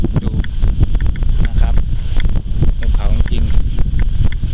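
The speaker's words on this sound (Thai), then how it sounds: "ลมแรงด้วยข้างบน" Strong wind on a hilltop above the valley town of Dan Sai in Loei, near Phra That Si Song Rak, roars steadily and loudly across the microphone with constant buffeting gusts.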